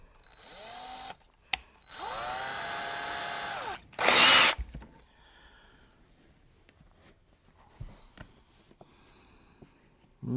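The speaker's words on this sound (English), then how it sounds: "now we're gonna switch our drill bits here" A power drill whirs in two bursts while enlarging PCV valve holes on a 2010-2013 Chevrolet Camaro, a steady high whine followed by a short, louder grinding spin, then quiet handling noises and small clicks.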